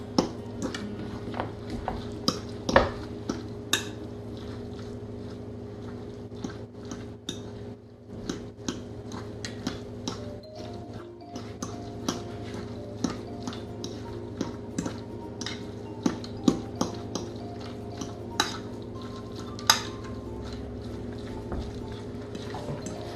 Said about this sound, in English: Then you mix everything up.